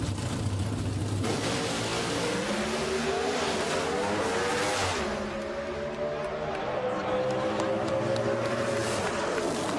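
Greg Anderson's new Chevrolet Camaro Pro Stock car makes an NHRA drag racing run at the Toyota SuperNationals, its engine roaring loud and steady as the pitch climbs through the gears, under a crowd's wash of noise.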